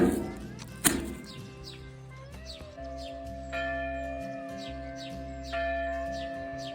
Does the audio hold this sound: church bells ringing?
yes